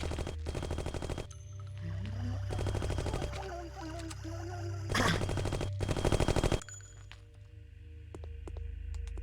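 Bursts of rapid automatic gunfire from the PC video game Martian Gothic: Unification come in several volleys separated by short gaps, over a low ambient game drone.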